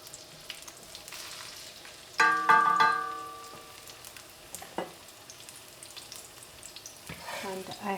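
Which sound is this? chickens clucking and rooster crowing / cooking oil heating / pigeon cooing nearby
cooking oil heating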